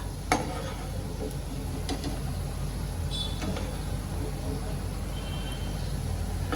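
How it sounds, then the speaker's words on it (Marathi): Okra pieces fry in hot oil with a steady, moderate sizzling hiss and a few faint clicks and clatters from utensils. "अशाच प्रकारे मी सगळ्या भेंड्या ज्या आहेत ते तळून घेते"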